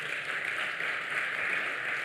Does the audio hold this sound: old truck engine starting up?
no